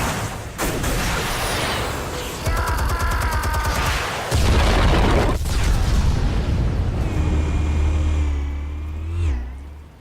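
Armed explosives detonate during Telltale's Batman game, heavy booms and rumbling blasts rolling over a busy cinematic mix of whines and roaring engines, with a deep sustained low rumble swelling through the middle and fading at the end.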